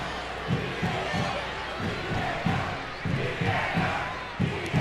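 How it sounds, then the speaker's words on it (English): Stadium crowd at a women's international soccer friendly, USA versus Mexico, chanting for VAR in rhythmic bursts, a steady roar of many voices with repeated loud pulses across the whole stretch. "the crowd are chanting VAR"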